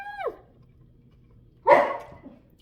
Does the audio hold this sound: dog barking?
yes